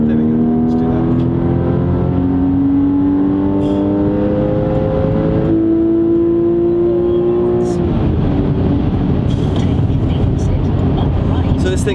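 A BMW M2 Competition engine revs hard and high, its steady rising tone holding close and loud before shifting into a rougher roar partway through.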